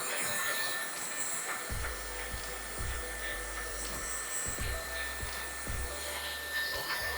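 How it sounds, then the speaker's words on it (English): Hair dryer blowing steadily on short cropped hair during a crop mid fade haircut, a continuous loud whoosh with low rumbling hum that shifts as the dryer moves, no talking. "it's not going to take us long to blow dry because there it's quite short"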